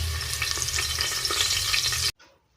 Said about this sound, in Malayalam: കുക്കർ ചൂടായി വെളിച്ചെണ്ണ വെച്ചിട്ടുണ്ട് ഇതിലേക്ക് രണ്ട് തണ്ട് കറിവേപ്പില ഇട്ട് കൊടുക്കുക